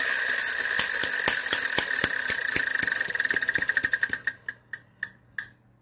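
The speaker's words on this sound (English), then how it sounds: "Catherine Tabor, our champ, you won the coin toss, so spin the wheel" The Wheel of Fortune game show wheel spinning in a studio, a rapid run of clicking pegs against the flapper that gradually slows into widely spaced ticks before stopping, close and clear, no one talking.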